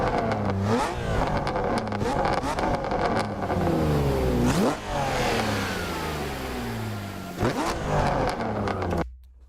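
A high-horsepower car engine of over 1000 hp in the racing game Assetto Corsa revs repeatedly, with loud rising and falling sweeps, sharp shift drops and aggressive acceleration bursts, alone without talk.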